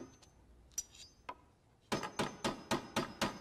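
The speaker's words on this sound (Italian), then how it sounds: "O era magari quello del mio martello." Cartoon hammer tapping, a few scattered light taps followed by a steady run of six evenly spaced, bright knocks, close and clear with no talking.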